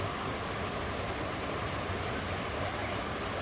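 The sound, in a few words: stream of flowing water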